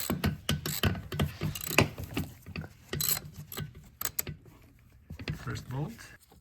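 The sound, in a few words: removing a thermostat bolt on a Saab 9-3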